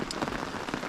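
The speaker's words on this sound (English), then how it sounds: "how often are you camping in the rain like this?" Pouring rain beats steadily on surfaces at a riverside campsite, a dense, continuous hiss of close drops with no voices.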